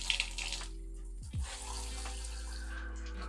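Gentle shower water runs onto a small potted plant in a bathtub, a steady soft spray with a brief gurgle partway through and no talking.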